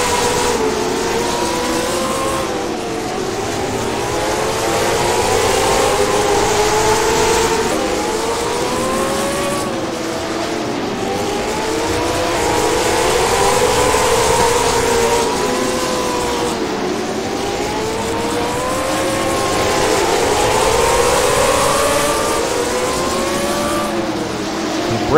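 A pack of late-model stock cars races on the short track at Jefferson Speedway. Their engines drone loudly and continuously, swelling and fading in repeated waves as the tightly bunched field laps past, with no talking.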